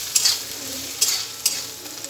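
Spice masala of turmeric, red chilli and coriander powders frying in a pan, with three distinct stirring scrapes over a low, close sizzle.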